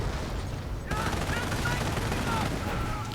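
Distant gunfire and grenade blasts crackle in a 2v2 World War II real-time strategy video game, a continuous faint rattle of shots under a commentator's voice.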